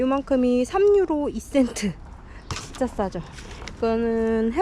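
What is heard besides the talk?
No everyday noises stand out.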